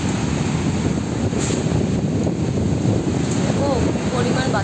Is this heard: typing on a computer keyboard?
no